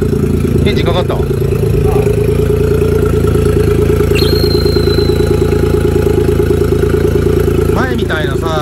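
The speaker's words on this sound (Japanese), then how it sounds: "さあこちらエンジンかかった。" A Suzuki Jimny's engine idles close by with a loud, steady, rhythmic throb, running evenly throughout while a voice speaks briefly near the start and end.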